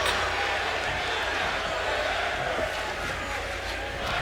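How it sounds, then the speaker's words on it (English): A wrestling arena crowd in the video game WWE 2K25 chants in a dense, steady roar that fills the space, with a commentator speaking over it. "This crowd chanting, "Fight forever.""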